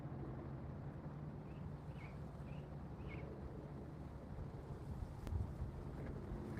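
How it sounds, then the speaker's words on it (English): Outdoor wind blows steadily at a low level, a soft continuous rush with a slightly stronger gust near the end, with faint bird chirps in the background and no voices. "Whoa, a little bit of wind."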